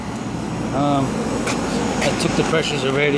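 A York package HVAC unit runs after its evaporator motor is replaced, giving a steady mechanical hum and airflow rush up close while someone speaks over it.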